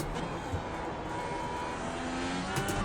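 IndyCar engine in the iRacing sim at Mid-Ohio, a continuous droning engine note that shifts pitch as revs change, moderately loud with no talk over it.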